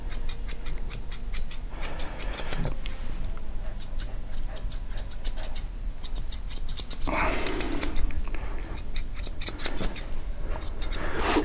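Quick snipping of scissors trimming an apricot poodle's head hair in short bursts, close up, with pauses between runs of crisp metallic snips.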